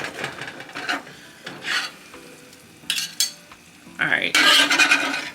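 A chopped cheese sandwich being chopped and scraped on a hot griddle, with rough scraping strokes, sizzling frying and a loud burst of sizzle at the end, while a voice speaks briefly.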